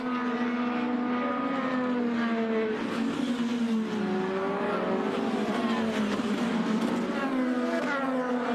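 IndyCar race cars scream around Barber Motorsports Park in Alabama, a loud, continuous high-pitched engine whine sweeping up and down as cars pass close by, with overlapping engine tones layered over steady track noise.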